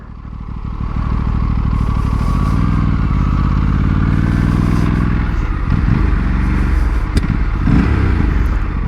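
A 2025 Aprilia RS457 motorcycle with a 270-degree crank revs under a rider, its loud throbbing parallel-twin note climbing steadily through the rev range, then settling into uneven pulses with mechanical clatter and wind rush.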